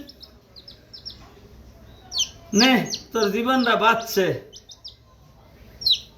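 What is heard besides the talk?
chicken chick chirping after rescue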